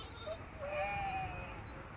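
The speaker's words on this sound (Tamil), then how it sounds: "எல்லா ஆடுகளும் மேய்ஞ்சிட்டு வந்து தண்ணி குடிச்சிட்ருக்கு" A large flock of sheep drinking water after grazing, with one drawn-out bleat rising clearly over a low outdoor background, moderately close.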